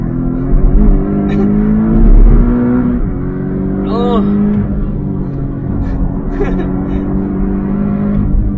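A car engine drones loudly and steadily while drifting, with a brief whistling tire squeal in the middle and short bursts of people talking over the noise.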